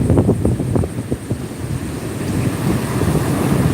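Wind buffets the microphone over rolling ocean waves on a beach, loud and continuous, with rumbling gusts.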